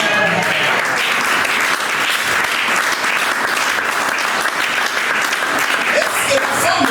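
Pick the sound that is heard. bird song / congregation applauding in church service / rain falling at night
congregation applauding in church service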